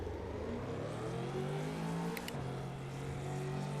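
A race car engine drones steadily in Assetto Corsa at Brands Hatch, a sustained, moderately loud engine note with a shift in pitch midway and brief higher blips.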